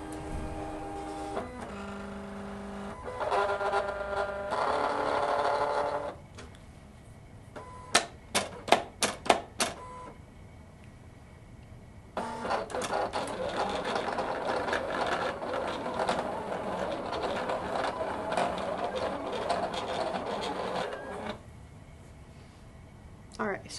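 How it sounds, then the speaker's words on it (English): A craft cutting machine reads registration marks and cuts a sheet of stickers, giving a steady mechanical whirr and hum in long stretches. These are broken by a burst of sharp clicking, and a voice talks in places. "So it's reading those black marks right now so that the machine knows where to cut."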